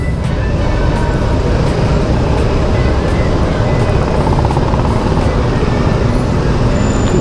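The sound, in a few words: city street traffic in Aizawl, Mizoram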